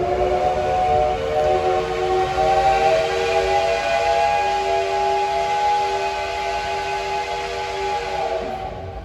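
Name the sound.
steam locomotive whistle at departure, SL Yamaguchi train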